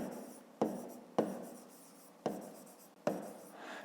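A pen writes in a notebook during a fifth-grade maths exercise on a triangle's perimeter, with four soft, close scratching strokes, each starting with a light tap on the paper.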